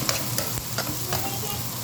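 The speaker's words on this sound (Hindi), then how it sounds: "ये मसाला भी प्याज के साथ ही भूनूंगी मैं" Onions and whole spices frying in a pan, a loud close sizzle with quick spoon scrapes and stirring clatter, steady over a short stretch with no voices.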